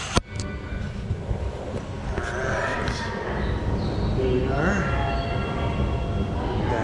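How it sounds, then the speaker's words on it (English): A Japanese train runs near Tokyo Station with a steady rumbling roar and rising whine, a sharp clack at the start, and faint tonal sounds partway through. "Oh, I love Japanese trains."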